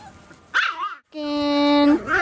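Welsh terrier puppies yip and bark in short bursts, then let out a long high-pitched whine, close and fairly loud, with a voice talking to them in between.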